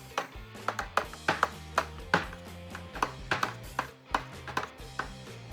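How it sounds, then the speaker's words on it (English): A spoon knocks repeatedly against the side of a container while a home-brew beer kit mixture is stirred, giving a quick irregular series of close, sharp taps over a low sloshing background. "Gonna give that a good stir."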